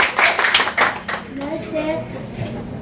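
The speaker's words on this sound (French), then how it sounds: "qu'on va applaudir tout de suite, mesdames et messieurs" Audience applause at a technology and computing centre launch event in France: a short burst of lively clapping, then a voice speaks over the dwindling room noise.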